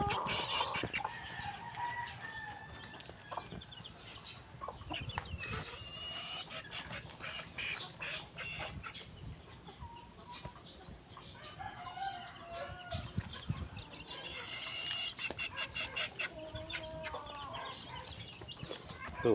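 Chickens clucking steadily nearby around a White Street Comb rooster, with overlapping calls and occasional crowing-like cries over constant background noise for the whole stretch.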